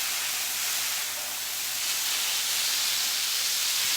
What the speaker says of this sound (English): don't you love the sizzle?